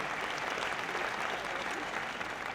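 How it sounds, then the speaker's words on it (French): An audience at a business awards ceremony in Loiret claps together in a dense, even burst of applause that holds steady for a few seconds. "Nous les applaudissons."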